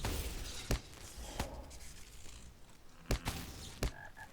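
Toads in a video game croak and pop in a quiet, faint ambience, with several sharp isolated cracks and short bursts spaced irregularly over a low background hiss.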